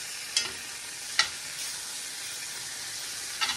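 Steak frying in a pan with butter, thyme and garlic, a steady close sizzle with a few sharp clinks of utensils against the pan, no voices.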